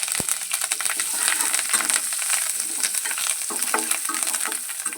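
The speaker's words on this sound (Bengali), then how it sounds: "অল্প সাদা তেল দিয়ে দিচ্ছি আর ছোট্ট চামচের এক চামচ দিয়ে দিচ্ছি জিরে জিরেটা একটু ভাজা হবে" Cumin seeds frying in white oil in a pan, a loud, continuous crackling sizzle with scraping stirring noises and occasional sharp ticks, no voices.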